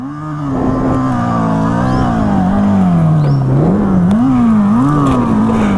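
A Komaki electric cruiser motorcycle plays its synthetic fake exhaust note, a loud, close, whining, buzzy tone that rises and falls in pitch like revving as the bike rides and turns, with no talk over it.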